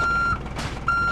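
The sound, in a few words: truck reversing beeps in the video game RV There Yet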